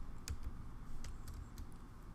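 Faint, quick keystrokes on a computer keyboard, a short run of soft clicks over a low background hum.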